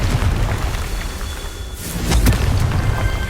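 A Confringo blasting spell goes off in the game Hogwarts Legacy: a deep, rumbling boom with a crackling burst near the middle, loud and close, with no speech.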